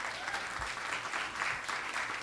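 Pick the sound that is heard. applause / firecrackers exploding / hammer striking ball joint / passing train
applause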